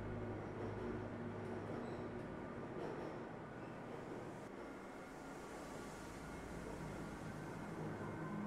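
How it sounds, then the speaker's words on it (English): A tram train in the Black Mesa game runs along its track with a steady rolling rumble and rattle that is moderately quiet and continuous, with a faint dip in the middle and no talk. "This train is inbound from Level 3 dormitories to Sector C test labs and control facilities."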